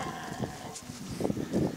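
A cow on a farm field moos in low, short, unhappy calls over steady outdoor background noise.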